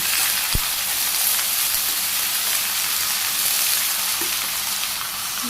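Vegetables sizzle in a hot pan in a Bangladeshi home kitchen, a loud, even frying hiss throughout with a single sharp knock near the start and no talking.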